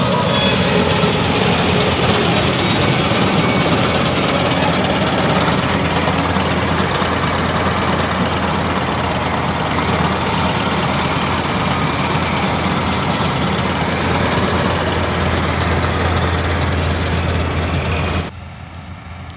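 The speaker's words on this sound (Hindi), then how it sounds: "ये देखिए मशीन चल रही है अभी" A rice harvesting machine cuts paddy in the field, its engine droning loud and steady at close range for the whole stretch before the level drops slightly near the end, with no voices over it.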